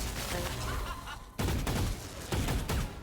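Close, loud gunfire crackles in a Valorant match, with dense rapid bursts broken by short gaps.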